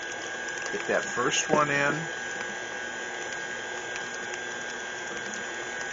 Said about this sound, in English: And we'll turn our mixer on.